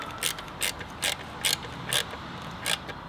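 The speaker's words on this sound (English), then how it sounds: "So you take your same 7mm from before and tighten up your hose clamp." A 7mm socket ratchet tightens a hose clamp during a Mountune air box install on a Ford Fiesta ST. About six short, close ratcheting bursts come at a steady rhythm with quiet gaps between them, and no voices.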